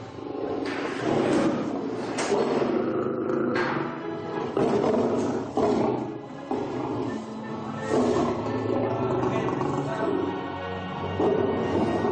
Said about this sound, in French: Le cri de lion ne m'a pas fait peur, sauf qu'il est trop fort.